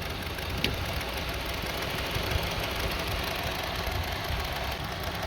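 A Honda CR-V engine idles roughly with a sensor removed, a steady close-up mechanical drone with a faint uneven knock and no talking.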